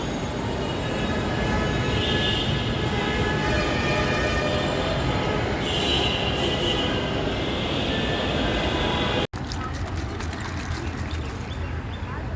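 A Dhaka metro rail train traveling from Mirpur 10 toward Bijoy Sarani, heard from inside the car as a loud continuous rumble and wheel roar, with a sudden sharp break near the end followed by a slightly lighter running hum.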